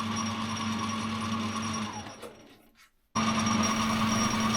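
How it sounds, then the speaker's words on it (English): Brass workpiece being drilled on a machine tool, a steady whirring drone that winds down and cuts to near silence before the motor hum returns abruptly at full level, no voices. "We're just now drilling a piece of brass"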